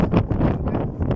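Gusty, hurricane-force wind rumbles steadily against the microphone outdoors, a loud, unbroken buffeting roar with no clear speech.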